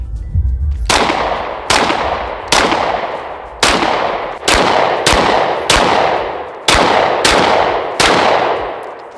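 Pistol fitted with a Recover Tactical 20/20 stabilizer kit firing about eleven loud, sharp shots at a range, spaced roughly every three-quarters of a second, each with a long ringing decay and no talking.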